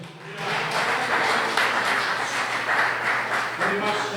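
A church congregation breaks into a dense, steady round of applause that holds for several seconds, with a voice speaking faintly beneath it.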